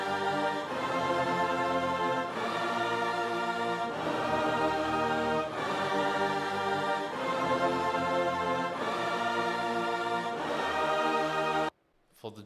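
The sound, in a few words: produced melody layered across high, mid and low octaves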